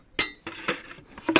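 Dishes clinking as rice is served at home, a few sharp separate clinks and taps of utensils against plates, close and fairly quiet, in short irregular bursts.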